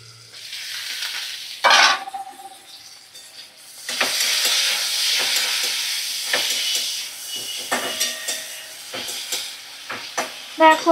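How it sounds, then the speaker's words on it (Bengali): Flat beans fry in a pan with mustard and poppy seed, loud close sizzling that swells after a lid is lifted, broken by repeated scraping stirs and clanks; a voice speaks briefly. "দেখো ভালো করে ভাজা করে নিচ্ছি"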